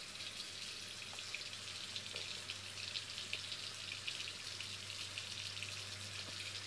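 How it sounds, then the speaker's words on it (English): Hands being washed with basic soap under a running tap, the water falling in a steady, even hiss that continues unbroken throughout with no one talking. "So it's just a basic soap. And wash that good. Get underneath the fingernails a little bit."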